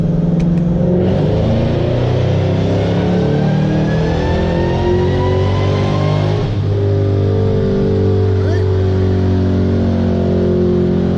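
A 2008 Shelby GT500 on a dyno pulls hard from low revs, its engine climbing steadily in pitch as it accelerates, then dropping back and holding a loud, close roar throughout with no talking.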